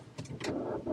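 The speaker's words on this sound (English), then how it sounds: "Will it start? You think it'll start?" A car engine cranks in freezing cold, a brief close burst of starter churning that sputters without catching.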